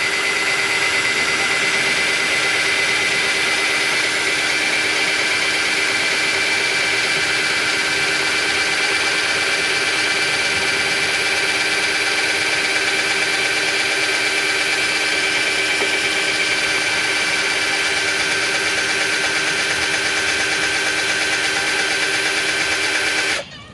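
A Marzocchi gear pump runs steadily while being primed, a loud continuous mechanical whine with strong tonal hum, holding level for the whole stretch before cutting off abruptly at the very end.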